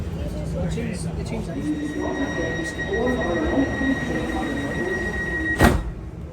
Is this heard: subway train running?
yes